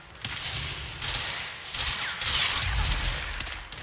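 Weapons fire in the PC game Control, with bursts of sharp, rapid shots and heavy thumps coming in clusters over a few seconds, loud and close, with no talking.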